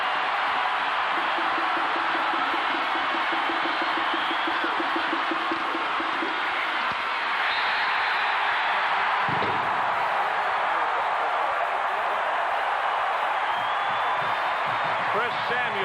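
A football stadium crowd at the 1990 Houston vs Texas game roars loudly and continuously on a fourth down, a dense wash of cheering and noise with a brief thud midway, heavy and close throughout.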